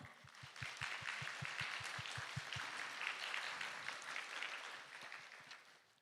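Steady applause from a conference audience at an AI regulation event, many hands clapping together and holding at a fairly even level for several seconds before fading slightly, with no voices.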